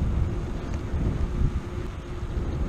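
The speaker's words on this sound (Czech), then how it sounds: "Je dost fouká vítr teda" Strong wind buffets a microphone outdoors during a bike ride up a long hill, a steady loud low rumble with gusting surges and no voices.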